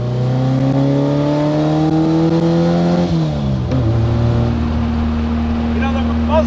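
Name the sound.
1957 Porsche 356A Outlaw car driving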